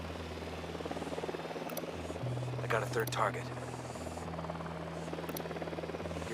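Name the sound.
drone flying in video game Ghost Recon Wildlands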